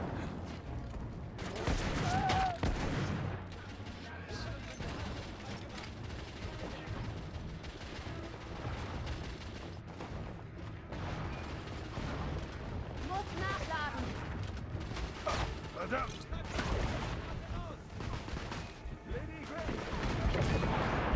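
Gunfire in a third-person shooter set in an alternate 1886 London, with dense bursts of shots and booming blasts that run continuously, while a voice speaks in German over the battle.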